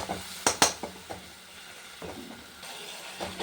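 Mustard, chilli, salt and turmeric paste frying in a pan while being stirred, with a few sharp metallic scrapes of a spoon against the pan over a soft, low sizzle.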